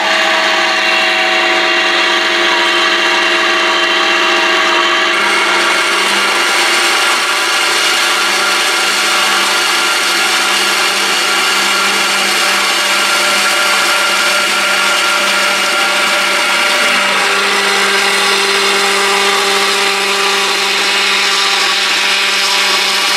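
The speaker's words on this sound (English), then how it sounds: "I thought I'd show you guys the cold saw working." A cold saw runs loudly and continuously for over twenty seconds, holding a steady high whine with sustained tones. The pitch shifts slightly partway through, likely as it cuts metal for a wind turbine tower mock-up.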